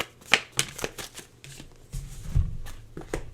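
Oracle cards are shuffled close by in quick, crisp riffles and taps, each in a short burst.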